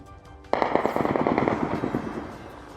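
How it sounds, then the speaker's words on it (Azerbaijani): Sudden burst of rapid small arms gunfire, a dense rattling string of shots that starts abruptly and continues steadily at close range. "Azərbaycan ordusunun mövqelərini bir neçə dəfə atıcı silahlardan atəşə tutub"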